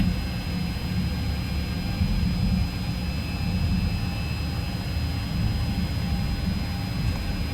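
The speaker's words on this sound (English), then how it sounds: "we're taxiing a little too fast here, so let me cut down on the throttle." An Avianca Boeing 737-800 taxiing at Cartagena airport, heard as a steady, loud low engine rumble with a constant high whine. It runs unbroken and without talk.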